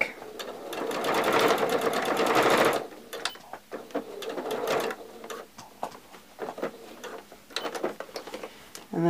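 A sewing machine stitching elastic onto a fabric face mask, a fast continuous whirring run followed by shorter bursts of ticking stitches and stops, close and clear.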